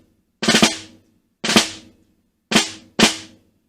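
Snare drum playing flams from Portraits in Rhythm Etude 9 at a slow tempo, four crisp, close strokes with noticeable grace-note doubling, evenly spaced and alone.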